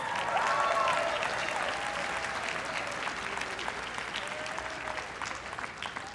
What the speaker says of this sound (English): Please give a round of applause to your second marshal